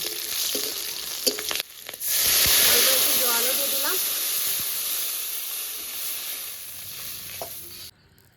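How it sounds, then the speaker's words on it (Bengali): Radhuni seeds, garlic and slit green chillies frying in hot oil give a loud, steady hissing sizzle that rises sharply and slowly fades, with a stir and a few clatters near the start. "কাঁচা লঙ্কা চেরা দিয়ে ভালো করে হালকা করে ভাজব"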